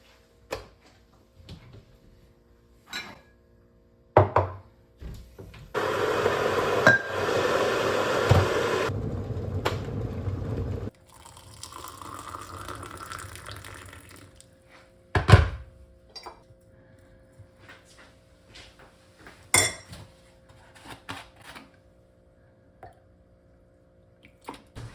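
A cup of tea is made with a kettle: clunks and taps, a few seconds of loud rushing water pouring, a softer hiss of heating or pouring, then more cup and spoon clinks and thuds, close with no talking.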